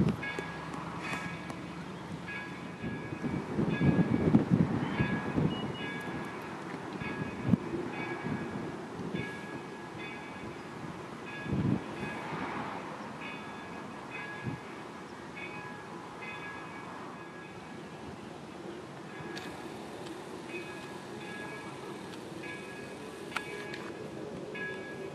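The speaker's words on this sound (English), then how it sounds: "Yes, indeed. A real train." A train passes a railroad station, heard as a faint, distant rumble with soft rail noise rising and fading over a long stretch; no voices.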